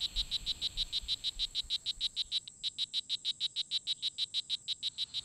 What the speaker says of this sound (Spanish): Este canto es realizado por una de las ranas más llamativas de este bosque, la rana roja.